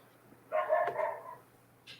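A dog gives one short, slightly muffled bark from another room, followed by a faint yip, against a quiet hum.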